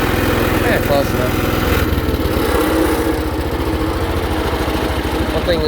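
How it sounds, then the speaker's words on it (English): A 1979 Case 224 hydrostatic riding lawnmower engine idling up close, a loud steady chugging throb that settles into a rougher, slightly uneven pulse partway through. "One thing this thing does a lot of when it's idling is bouncing around."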